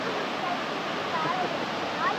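Kanthalloor waterfall in Kerala roars as a steady, broad rush of falling water, loud and close, continuous throughout without any break.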